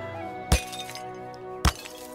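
Wooden objects smash into splinters in South Park: The Stick of Truth, two sharp cracking impacts about a second apart, each with a brief brittle scatter of debris, over quiet game music.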